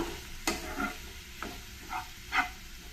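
Fenugreek leaves frying in oil for masala paratha filling, a continuous soft sizzle broken by several sharp stirring scrapes and clicks of a utensil in the pan, no voices.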